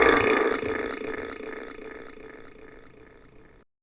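A long, loud, drawn-out burp that starts strong and slowly fades over several seconds, heard alone with no other voices or background sounds.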